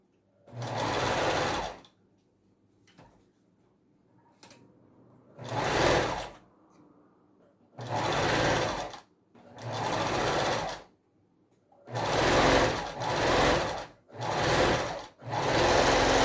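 Sewing machine stitching fabric for a stuffed bear, loud close bursts of rapid whirring stitching separated by quiet pauses, about eight runs of varying length.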